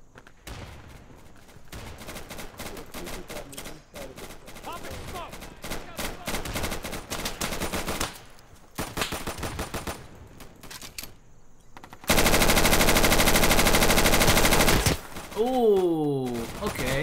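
Gunfire in the tactical shooter Insurgency: bursts of automatic rifle fire and scattered shots, near and distant, with someone talking over parts and one very loud sustained stretch of firing.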